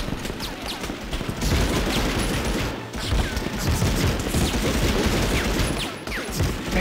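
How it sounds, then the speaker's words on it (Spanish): Loud, dense gunfire from the PlayStation 1 game Medal of Honor, sustained rapid shots and bursts crackling almost continuously with a brief pause near the middle, no voices. "Disparando."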